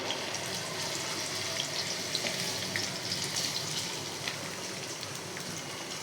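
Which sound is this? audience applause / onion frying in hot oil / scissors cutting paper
onion frying in hot oil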